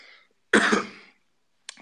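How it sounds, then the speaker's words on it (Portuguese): A single harsh cough bursts out after a brief stretch of quiet, followed by a short faint catch of breath near the end. "Desculpa lá pela minha tosse."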